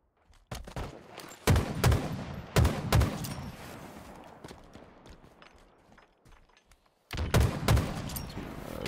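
Bursts of gunfire in a Halo Forge custom map: several sharp volleys of shots cluster near the start, a quieter stretch follows, then another heavy barrage erupts, all loud and close with no talking.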